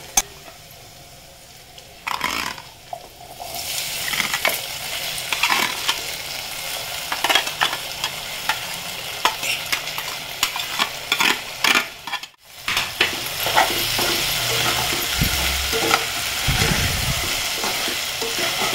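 Sago pearls and fried potato are stirred and sautéed in a hot pan for sabudana khichdi, a steady sizzle broken by frequent scraping spoon strokes, close and fairly loud, with a brief pause midway and no speech.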